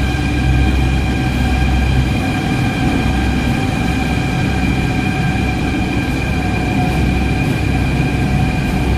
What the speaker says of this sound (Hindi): जयपुर मेट्रो।